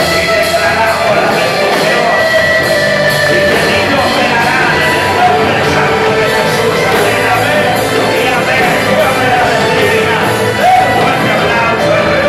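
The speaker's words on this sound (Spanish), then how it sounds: "¡Denle un fuerte aplauso al Rey!" A loud, dense church congregation roars and cheers continuously, with shouts and whoops rising over a steady wash of noise from start to finish.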